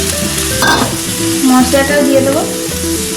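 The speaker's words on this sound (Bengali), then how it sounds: "মাংসগুলো আমি ভালো করে ভেজে নেবো।" Chicken meat fries in a pan with spices, producing a loud, continuous sizzle with stirring scrapes while someone speaks over it.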